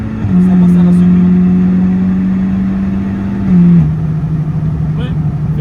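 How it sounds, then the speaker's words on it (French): An Audi S3 8V, stage 3 with a hybrid turbo, 505 hp and a DSG gearbox, carrying three people: the engine holds a steady drone at held revs, then the pitch drops abruptly as the car launches, loud and close inside the cabin. "il faut se placer à 3700 tours environ, laisser précharger le turbo, pied au plancher"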